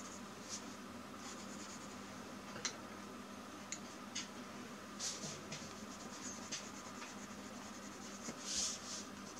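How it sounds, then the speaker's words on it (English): A cinnamon colored pencil scratches softly and steadily across journal paper, adding shading to a drawing of an Afghan hound. Faint taps and strokes come through at close range over a low background hiss. "I'm going to go in with the cinnamon color pencil and just add a little bit of dimension to this very pretty dog"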